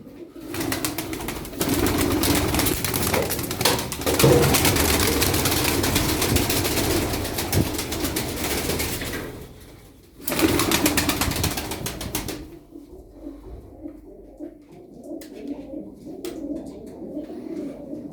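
Tumbler pigeons (taklacı), a flock of about twenty, coo softly and repeatedly under long stretches of heavy broadband noise and wing flapping, then the cooing continues more clearly once the noise drops away.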